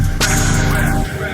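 A trap-style synth 'womp' in Ableton with a low-pass filter whose dry/wet mix is automated, a bright sweep opening then gliding downward with a phaser-flanger swirl, loud and continuous.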